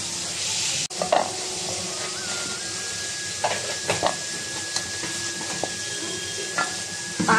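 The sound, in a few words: crabs frying in a pan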